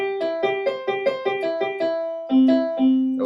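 A melody made only of chord tones, bugle-call style: a clear, harmonically rich instrumental line stepping through about ten short notes in an even rhythm, ending on two lower, longer tones.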